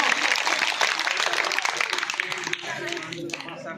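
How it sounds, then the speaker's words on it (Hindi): Audience applause at a school quiz competition welcoming the two quiz hosts onto the stage: dense, sustained clapping that fills the room, then thins out toward the end. "आप लोगों की भरपूर तालियों में तशरीफ लाते हैं मोहम्मद यूनुस और मोहम्मद अशरफ।"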